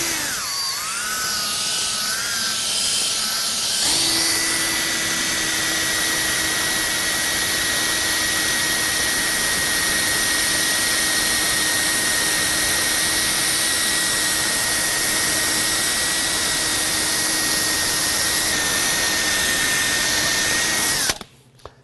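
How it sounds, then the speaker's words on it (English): Polishing machine fitted with a focus pad, winding up from a low pitch to a steady high whine at full speed, running loud and continuous before cutting off at the end. "I start slow, and then slowly I work up the RPMs to full speed."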